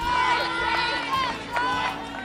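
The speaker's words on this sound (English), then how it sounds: "The crowd continues to shriek and shrill in anticipation." Wrestling-match crowd at a Montana high school event shrieking and shouting in anticipation, a dense, steady roar of many voices with higher yells rising above it.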